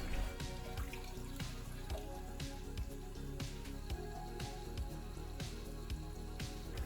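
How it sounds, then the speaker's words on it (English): Hydrogen peroxide poured into a toilet tank makes a steady splashing trickle with scattered drips and gurgles. The sound is close and fairly quiet, with no talking. "simply flush the toilet and pour 200 ml of hydrogen peroxide into the tank"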